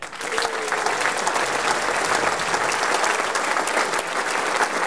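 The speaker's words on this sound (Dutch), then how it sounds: "mag ik u welgemeend applaus voor de mensen van het licht en die zitten boven" A concert hall audience at a carnival concert by the Harmonie L'Union Bladel wind band gives dense, steady applause for the lighting crew, loud and sustained throughout with no break.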